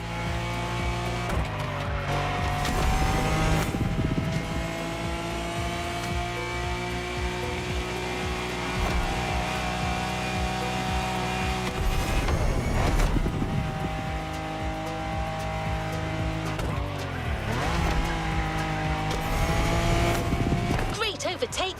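Race cars in The Crew Motorfest roar and rev with engines rising and falling and tires squealing through turns. The engine drone is loud and continuous, and swells mark several passes.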